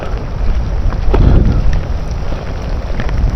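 Heavy rain pours at night beside a fishing pond, a loud, continuous hiss close to the microphone with gusty rumbling wind noise mixed in.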